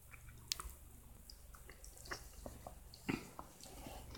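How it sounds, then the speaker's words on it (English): Food is chewed with the mouth closed, pressed between tongue and palate to muffle it, giving faint wet squishes and scattered soft crunches over a quiet background. "my technique involves doing the initial crunch with your tongue and the roof of your mouth"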